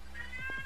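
A cat gives a single short, faint meow, close by over a quiet background.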